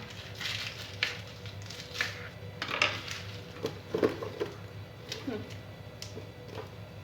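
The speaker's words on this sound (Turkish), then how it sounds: "Şöyle iri iri doğruyorum hepsini zaten." A knife chops salad vegetables into large pieces on a cutting board, giving irregular, crisp knocks spaced about a second apart at close range, with faint kitchen background between the cuts.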